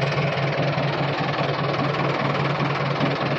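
Tractor engine running nearby with a steady, throbbing low rumble and rapid knocking pulses, unbroken and fairly loud, with no talking.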